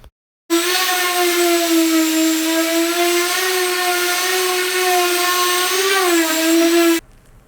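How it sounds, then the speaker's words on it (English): A power sander works fine grit sandpaper over a wooden farmhouse table. A steady, high-pitched motor whine with a gritty edge holds for about six seconds, then cuts off abruptly. "Finally, I'll do a third pass using a fine grit sandpaper to make sure that this table is smooth enough"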